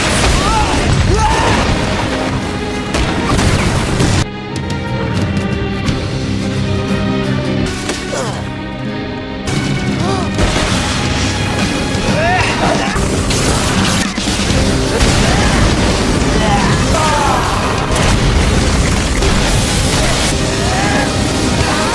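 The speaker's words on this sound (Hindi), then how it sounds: "शापित शक्ति का धमाका" An anime cursed energy blast: a loud, dense burst of booming, crashing energy that rumbles on for a long stretch, layered with rising tones, impacts, and a voice cutting through.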